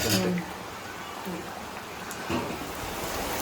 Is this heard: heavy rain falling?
yes